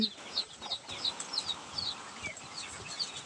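Farm chickens clucking in short bursts at a moderate distance, with chirping birds and faint outdoor background noise.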